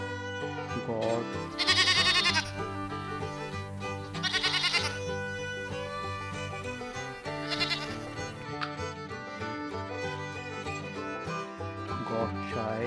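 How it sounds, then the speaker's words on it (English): A goat bleats three times in short, wavering cries, spaced a few seconds apart over a steady tonal background. "Goat."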